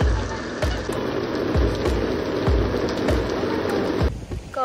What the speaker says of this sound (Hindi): अचानक से इतनी बारिश शुरू हो गई